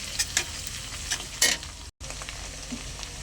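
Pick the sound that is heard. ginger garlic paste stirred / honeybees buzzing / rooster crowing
ginger garlic paste stirred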